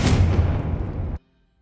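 A Confringo explosive spell blast in the Hogwarts Legacy video game: one loud, dense booming burst that rumbles for about a second, then cuts off abruptly into silence.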